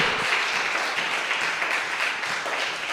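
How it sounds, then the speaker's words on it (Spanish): A church congregation at a Spanish-language Christian sermon breaks into dense, steady applause, many hands clapping together at an even volume from start to finish. "Alábelo con un aplauso y hemos terminado."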